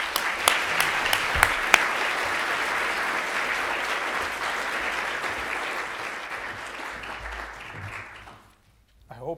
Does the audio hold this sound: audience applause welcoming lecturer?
yes